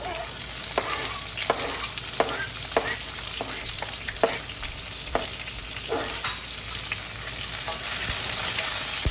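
Fennel seeds, cumin seeds and onions frying in hot oil for bhindi sabzi: a loud, continuous sizzle punctuated by sharp utensil clinks and scrapes from stirring, close and steady throughout.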